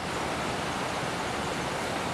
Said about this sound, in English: through the trees you can see our waterfall here